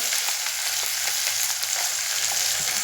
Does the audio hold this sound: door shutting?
no